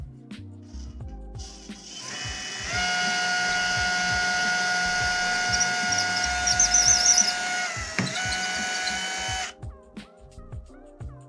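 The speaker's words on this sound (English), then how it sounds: "Drilling slowly with an old metal bit works very well." A few clicks, then a drill with an old metal bit and no percussion whines steadily at a constant pitch into cellular concrete for several seconds before winding down and stopping. Close by, no talking.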